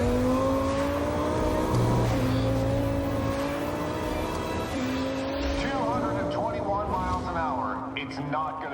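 Race car on a half-mile oval track in Ocala roaring past at speed, engine pitch rising and shifting under loud continuous crowd and track noise, with commentary-like voices over it.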